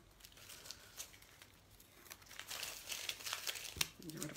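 Painter's tape being peeled off a painted buffalo plaid pattern, faint crinkling and tearing that grows busier toward the end, with quiet crumpling rustles throughout.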